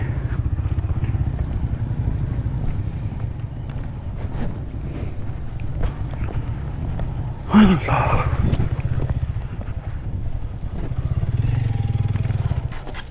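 Motorcycle ridden along a track toward a waterfall point in Kanrach, Balochistan, a steady low engine drone mixed with wind buffeting on the microphone, with a brief voice partway through.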